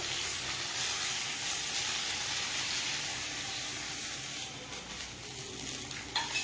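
Vegetables frying with butter in a pan, a steady dense sizzle with light stirring and faint utensil clinks, fairly quiet and with no talk.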